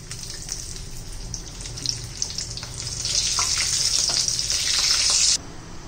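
Egg lollipops deep frying in hot oil on a home stove, a steady bubbling sizzle that grows louder and brighter partway through, then cuts off abruptly near the end; no one speaks.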